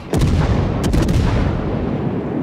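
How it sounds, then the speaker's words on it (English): Warship guns firing at another ship in World of Warships, a heavy booming salvo with a few sharp cracks, loud and close, followed by a long rumbling decay. "And now Flag is basically firing at the other ship, that Independence out there"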